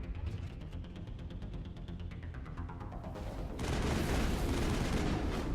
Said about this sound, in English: These bullets are dancing all over the place.